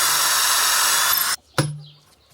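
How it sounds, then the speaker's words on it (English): A power drill boring holes into the underside of a stone beam for rebar, a steady loud whine that cuts off abruptly, followed by a brief bump and a short fading tail. "in the bottom side I'm going to drill some holes"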